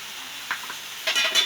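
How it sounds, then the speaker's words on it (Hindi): Drumstick leaves, potato, chopped tomato and turmeric fry in a pan with a steady soft sizzle, and brief stirring scrapes and clinks from the utensil come up near the middle and end of the short stretch. "और इसको अच्छे से भून लेते हैं थोड़ा समय के लिए इसको।"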